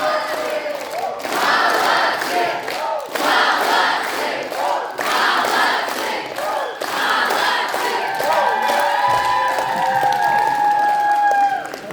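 At the closing ceremony of an animation film festival, a hall crowd applauds and cheers loudly for about twelve seconds, with shouts and whistles rising above the continuous clapping.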